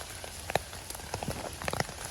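Rain falls in a dark forest during mushroom picking, with steady close patter and scattered sharper droplet hits on leaves and surfaces over a continuous hiss.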